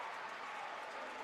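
A large crowd of Greyhounds basketball fans roars and claps in a gym after an and-one play, a brief, steady wash of cheering and applause.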